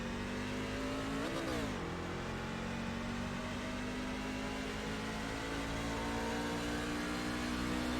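Race truck engines rev together at the start of a video game race from Vegas, a steady loud mechanical drone with a brief pitch swell early on, then a sustained even roar.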